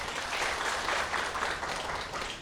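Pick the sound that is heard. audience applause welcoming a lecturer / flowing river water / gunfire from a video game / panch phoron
audience applause welcoming a lecturer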